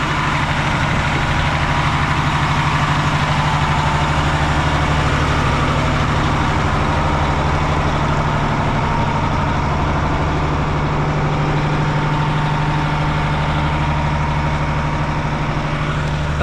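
An old project truck's engine idles steadily, a continuous low rumble with a faint mid-range drone that holds unchanged throughout with no one speaking.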